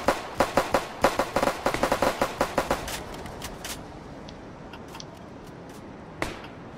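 Gunfire in a Roblox warship roleplay game: a string of about fifteen quick, crisp shots in uneven bursts over roughly three seconds, then scattered faint pops and one more shot later on.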